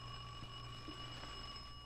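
A bell rings in a steady, continuous electric tone with sustained bright overtones, faint and distant under a hiss of background noise in an old 1948 radio drama.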